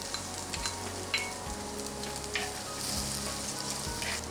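Green chilli and ginger sizzle in hot coconut oil for a Kerala dry fish curry, a steady close crackle and spit with a few sharper pops and no talking.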